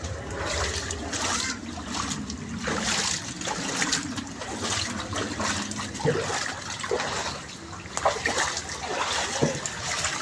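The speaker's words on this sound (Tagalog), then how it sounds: "Iskinita namin parang ilog na." Floodwater rushing through a narrow alley in Talaba 2, Bacoor, Cavite during heavy rain, a steady broadband wash of flowing and splashing water close by, with a few sharper splashes and no clear talk.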